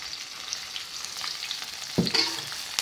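Curly red chillies fry in a pan for spicy sweet-and-sour shrimp, giving a steady close sizzle broken by stirring scrapes and a couple of louder clatters near the end.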